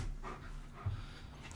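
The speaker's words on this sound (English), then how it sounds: "Can anybody else's dogs hear my dogs?" Several dogs indoors give brief, close panting breaths and soft muffled noises over a short moment, faint and with no clear barks.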